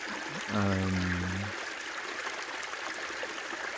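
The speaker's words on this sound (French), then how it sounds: "Vous entendez l'eau là depuis tout à l'heure qui coule." Running water flows steadily outdoors as a continuous broadband wash, with a brief low droning tone near the start, and no talk.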